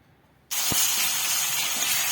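Spice paste dropped into hot ghee bursts into a loud, sudden hiss that holds as a steady close sizzle, starting with a brief thump.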